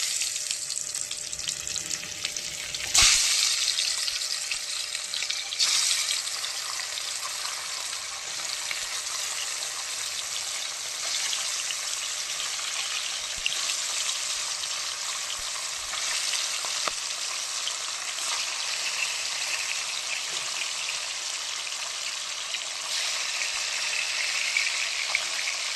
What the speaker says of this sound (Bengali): বলে মাছ ভাজা হতে থাক